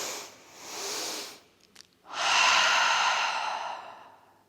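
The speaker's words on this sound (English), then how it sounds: "inhale through the nose, exhale through the mouth" A person breathes in through the nose and out through the mouth during a morning yoga flow: a soft nasal inhale, a short pause, then a long, fuller airy exhale, close and alone.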